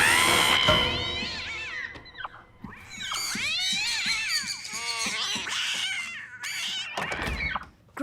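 Cat screeches and yowls in a movie scene, several loud wavering cries broken by thuds and bangs, with gaps of quiet between them.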